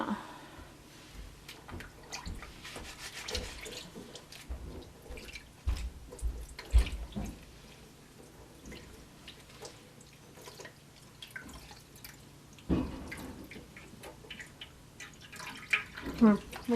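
Water runs and drips as snow-dyed wool fiber, colored with food coloring, is gently washed with dish soap in a sink, with irregular splashes and drips throughout and soft speech-like sounds at times.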